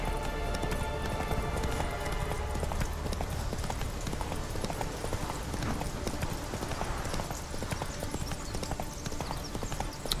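Roach the horse gallops through The Witcher 3, hooves clip-clopping in a fast, steady rhythm up close over a dense game soundscape.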